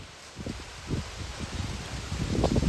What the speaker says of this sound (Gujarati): પાછો પવન આવે